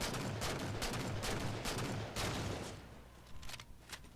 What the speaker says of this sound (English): Shoot as fast as possible with the DMR